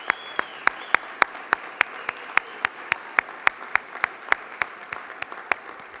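At a conference closing plenary, an audience claps in a steady rhythmic beat, about three sharp claps per second, over a bed of general applause.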